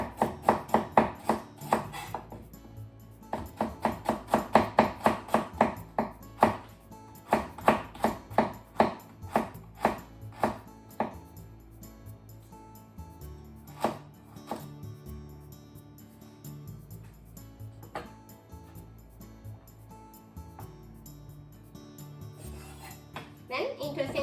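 A knife slices a cucumber into thin slices on a board, making quick rhythmic chopping taps that come in dense bursts and then slow to sparser, fainter strokes, close and without talk.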